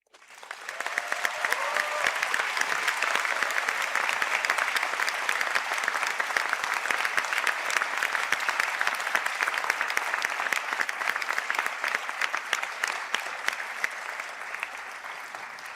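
Sustained, dense applause from a large audience at a conferring ceremony for Interior Architecture and Design graduates in Sligo, building quickly and holding steady at full strength throughout, with no speech over it.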